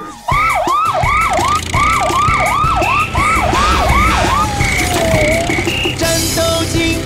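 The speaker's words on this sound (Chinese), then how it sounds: "战斗警报声响起，警车全速出击" Cartoon police car siren from an animated children's song, a loud, close wail rising and falling in rapid repeated cycles before sliding down into steadier tones with music.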